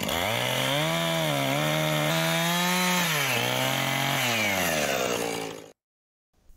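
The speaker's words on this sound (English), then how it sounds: "Let's chainsaw a bunch of logs." A chainsaw roars close and loud, its pitch dipping and rising as it bites through logs, then cuts off abruptly into silence.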